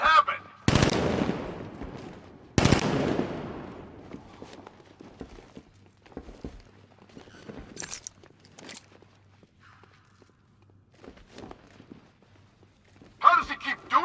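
Gunfire from the Batman: Arkham Knight video game: two loud, sharp shots near the start, then scattered faint impacts, footsteps and scuffles, and a closing burst of noise.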